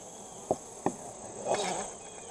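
Close, soft buzzing of honey bees humming steadily over honeycomb during a hive inspection, with a couple of light taps and a brief swell of louder buzzing.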